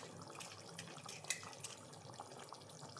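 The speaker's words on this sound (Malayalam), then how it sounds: "ഞാൻ അതിനൊപ്പം ആ മിക്സിയുടെ ജാറ് കൂടി ഒന്ന് കഴുകി ഇതിനകത്തേക്ക് ചേർക്കുന്നു കേട്ടോ." Water splashing as a mixer grinder jar coated with leftover grated coconut is rinsed while cooking ash gourd with chicken; a faint, brief wash of running water and splatter, close by and alone.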